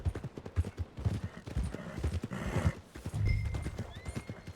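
Hooves clip-clop in a steady rhythm at close range in the video game Red Dead Redemption 2, with a horse whinnying partway through. Nobody speaks.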